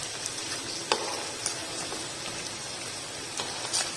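Vegetable spring rolls deep frying in oil give a soft, steady sizzle with scattered light pops and crackles, close and fairly quiet, with no talking.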